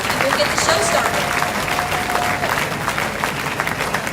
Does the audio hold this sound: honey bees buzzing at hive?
no